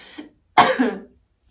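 A single harsh cough bursts out after a faint throat sound, then silence.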